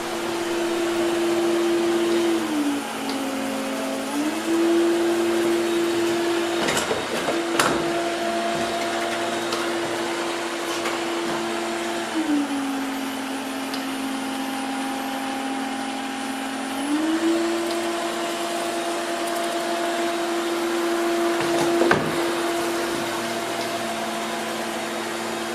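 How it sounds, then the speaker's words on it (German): Midea M7 Pro robot vacuum cleaner with its suction motor running, a steady whirring hum whose pitch steps down and back up as the power level shifts, with a few faint knocks along the way. "wenn ihr auf das Motorgeräusch von dem Roboter hört, dann merkt ihr manchmal, dass er offenbar die Saugleistung geringfügig umschaltet"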